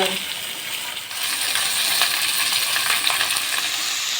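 The head of a 3 kg katla fish fries with chopped onion in hot oil, giving a loud, steady, close sizzle with occasional stirring scrapes throughout.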